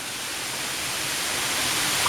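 A waterfall pours steadily in a wooded valley, a constant broadband hiss of rushing water that holds even and fairly faint throughout, with no voices.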